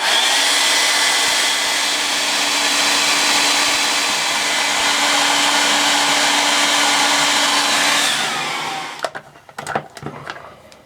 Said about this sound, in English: I gotta get this sticker off, so I'm gonna use a hairdryer